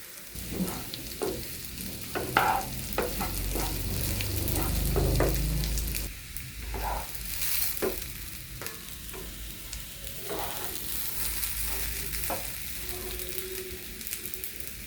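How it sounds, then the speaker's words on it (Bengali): Rice fries in a pan with cardamom, cinnamon, cashews and raisins for pulao. A steady sizzle carries repeated scraping stir strokes, close and moderately loud, with no talking. "চালটা ভাজা হয়ে গেছে।"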